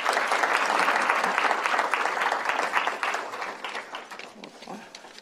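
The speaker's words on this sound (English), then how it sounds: "With a round of applause," A conference hall audience at the 2018 Oxford Africa Conference breaks into full, close applause to welcome a speaker, holding steady before gradually fading and thinning out.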